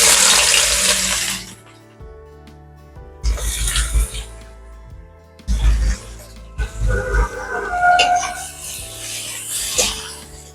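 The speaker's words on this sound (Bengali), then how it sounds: "এই সময় খুব ঘন ঘন নেড়ে পেঁয়াজগুলো খুব ভালোভাবে ভাজতে হবে" Onions frying for biryani beresta, stirred often in the pan: bursts of loud sizzling and scraping separated by quieter gaps, with a voice talking at moments.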